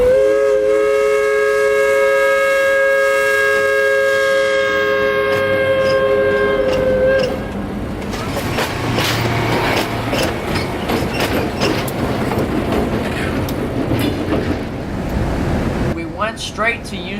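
A train near the old Tavares depot sounds a long harmonic whistle, then rumbles and clatters loudly past with a steady rolling roar for the rest of the stretch.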